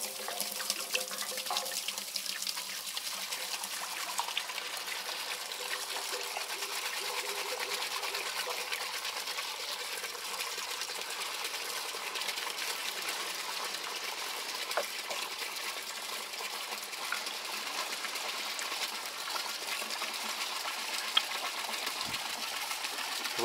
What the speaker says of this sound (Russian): Так, наливаем бензин.